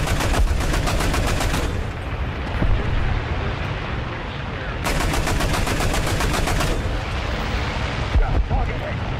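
Aircraft guns in the War Thunder combat flight game, fired from a Zerstörer 45 heavy fighter in two long, loud, rapid bursts of cannon and machine-gun fire over steady engine drone.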